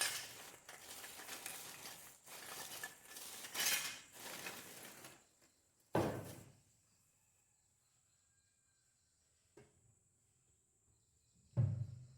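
Metal puja vessels clink as they are put away in a home shrine cabinet: a run of clattering knocks over the first five seconds, one sharp clank, then near quiet broken by a faint tap and a final louder clink.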